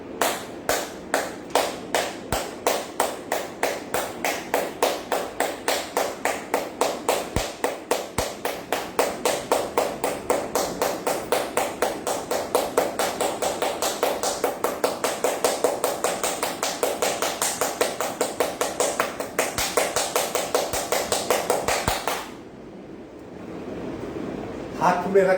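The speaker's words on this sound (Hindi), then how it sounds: "सातवीं क्रिया, ताली।" Steady rhythmic hand clapping during a yoga exercise, a long run of rapid, even claps close by that stops abruptly near the end, with an instructor's voice faintly underneath.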